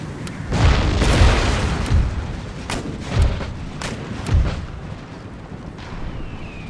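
Naval cannon and musket volleys in Empire: Total War, a series of deep booming artillery blasts and crackling gunfire rolling in irregular waves, loud and reverberant.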